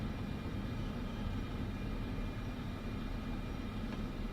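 Airplane taxiing in Microsoft Flight Simulator 2024: a low, steady engine drone with a faint whine above it, holding an even level throughout with no speech.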